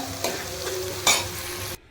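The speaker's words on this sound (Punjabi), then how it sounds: "ਮਸਾਲਾ ਭੁੰਨਿਆ ਜਾ ਰਿਹਾ ਆ" Spices sizzle and crackle in a hot pan as they are stirred, with a scrape partway through before the sound cuts off.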